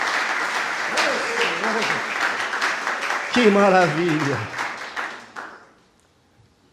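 Church congregation applauding during a worship service, a sustained wash of clapping from many hands with voices calling out over it, swelling briefly before fading away to near silence.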